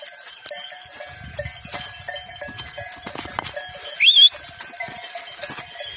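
Scattered clinking bells and soft rustling from a flock of sheep grazing in the rain on a mountain, with one brief bleat partway through.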